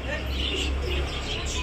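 A fancy breeding pair of pigeons in a pet store coos softly and steadily under a constant low background hum, with no clear pauses.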